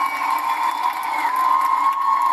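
Concert crowd in England cheering and clapping as two performers finish a song, a steady, loud wash of whoops and applause throughout.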